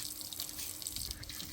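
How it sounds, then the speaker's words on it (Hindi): A fully opened tap in a rural village kaccha house runs steadily, a quiet, continuous hiss of water with no talk over it. "पानी खोल के दिखाओ तो"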